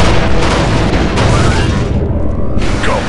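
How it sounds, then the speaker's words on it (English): Explosive charge detonating in Star Wars: Republic Commando, a loud, sustained rumbling boom filling the whole clip with dense low-end roar and crackle, briefly thinning before swelling again. "Explosive set, 3-8. Combat ready. Fire in the hole."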